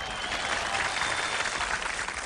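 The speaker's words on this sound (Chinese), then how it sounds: "大家掌声鼓励的两位，谢谢。" A television gala audience applauds two volunteer couples called up to join a magic act on stage: a short burst of full, steady crowd clapping that stays even throughout.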